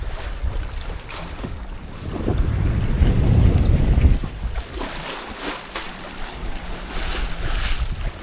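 A sailboat under sail along the coast near Cienfuegos, Cuba, in a light breeze of about 9-10 knots: wind buffets the microphone with a strong rumbling gust midway, while water rushes and splashes steadily against the hull.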